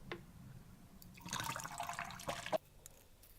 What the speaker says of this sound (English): I'm just going to pour this into the bottle.